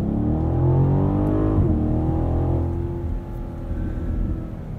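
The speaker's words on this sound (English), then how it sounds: "I love the subtle burbles that you get on the overrun." A 2021 BMW Alpina XB7 drives close and loud, its engine tone sweeping down through a downshift, then settling into a lower drone with soft exhaust burbling as the throttle comes off.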